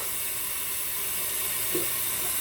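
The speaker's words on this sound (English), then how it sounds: "now I'm going to just fill this with warm water" Warm water runs steadily from a tap into a bowl, a constant close hiss with no talking.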